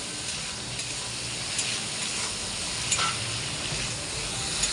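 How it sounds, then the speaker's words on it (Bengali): Prawns lightly frying in oil for a raw jackfruit and prawn dish give a steady, even sizzle that hisses on without pause, close and moderately loud, with no talking. "মাছ ভাজাতে এটা হালকা ভেজে নেব, বেশি ভাজবো না।"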